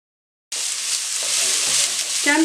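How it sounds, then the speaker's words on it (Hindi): Spring onions and vegetables frying in a pan, a loud steady sizzle kicking in abruptly and holding throughout with faint clinks underneath. "साथ ही स्प्रिंग ऑनियन भी डाल दें। और हल्का सा इनको फ्राई कर दें।"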